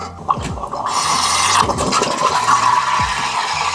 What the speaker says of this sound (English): Now we're gonna steam.